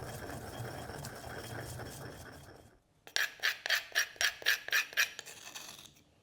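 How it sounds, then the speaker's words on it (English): Toasted Sichuan peppercorns are crushed with a pestle and mortar, starting as a low rumbling grind, then after a brief pause becoming about ten rhythmic, crisp gritty strokes, close and clear with no talking. "They can go straight into this pestle and mortar and then crush them."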